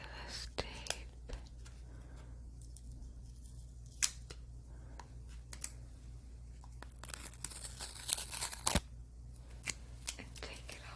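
Tape being peeled off a tarot deck box, soft crinkling and tearing rustles with scattered sharp clicks and crackles, close and quiet, under faint whispering.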